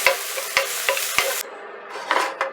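Broccoli stirred in a hot frying pan, a spoon scraping through it in several sharp strokes over a steady close sizzle, the sizzle cutting off partway through.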